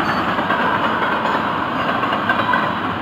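An FEC freight train rolls slowly along a siding at night, a steady broadband rumble and rattle of railcars heard close by, continuous and unbroken with no voices.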